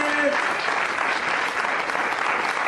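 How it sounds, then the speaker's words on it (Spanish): A church congregation applauds, a dense, loud, continuous wash of many hands clapping that fills the whole moment with crowd noise. "¡Denle un aplauso al Señor en fe!"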